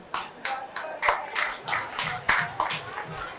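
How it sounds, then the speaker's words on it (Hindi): Sparse, uneven hand claps from a small crowd at a devotional birthday gathering, about a dozen sharp claps spread irregularly, close and moderately loud, with faint murmuring underneath. "खाली तालियों से बात नहीं बनेगी भैया, ताली भी ऐसी जैसी पापड़ तोड़ रहे हो"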